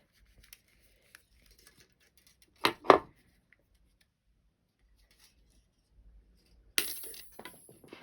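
Jewelry wire for dangle earrings is snipped with cutters, a couple of sharp metallic clicks in quick succession amid near silence, followed later by a brief rustling scrape.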